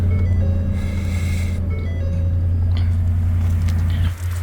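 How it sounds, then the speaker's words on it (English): A work truck, a 250, started and left idling to warm up: a steady, close, low engine drone with a faint tonal whine running throughout, dipping briefly at the very end. "Gotta get this truck started. I'm gonna let it warm up"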